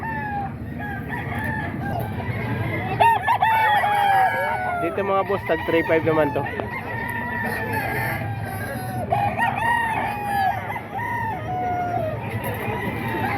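At a crowded poultry market in Bocaue, many roosters crow and chickens cluck in overlapping bursts all around, some near and loud, others farther off, while someone talks steadily over the din.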